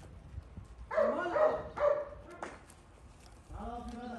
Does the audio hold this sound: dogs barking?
yes